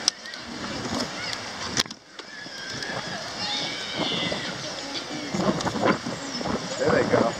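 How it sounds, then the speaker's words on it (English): Water fountain splashing at Venice Beach, Los Angeles, with kids playing in it, a steady wash of spray and sloshing water close by with bursts of activity, under ongoing chatter and distant voices. "that's one of the best water fountains right there"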